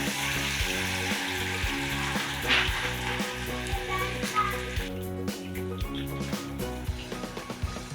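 Chicken 65 pieces frying in well-heated oil, a loud bubbling sizzle with a rhythmic mechanical hum underneath, the hiss easing slightly toward the end.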